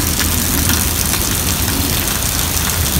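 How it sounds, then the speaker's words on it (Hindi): Steady heavy rain pours down outdoors in Jodhpur, a loud, dense hiss of drops pattering on surfaces with a low rumble underneath and no pauses. "मस्त बारिश हो रही है"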